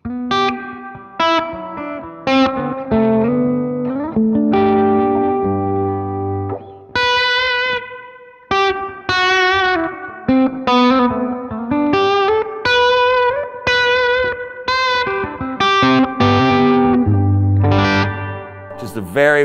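A guitar played through an amp with a Digitech Polara reverb pedal on its plate setting rings out in picked notes and chords, each one trailing a bright, smooth reverb tail, loud and close with brief gaps.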